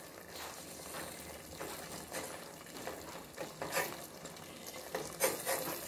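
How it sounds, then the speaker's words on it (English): A spoon cuts through soft, fully cooked cow skin (ponmo) in a pot, making quiet squelching scrapes and light metal taps against the pan in a few bursts, faint and close, with no talking. "You can cut it with a spoon."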